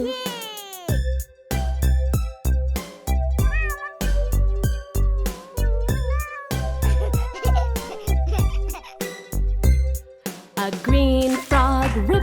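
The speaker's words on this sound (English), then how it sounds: "A white cat meows real loud" A white cartoon cat meows loudly several times in a row in a children's nursery song, with bright, rising cries over a steady musical backing.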